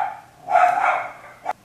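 Dogs bark at a cat up a tree: one drawn-out bark or yelp near the mic, then a short sharp bark after a pause.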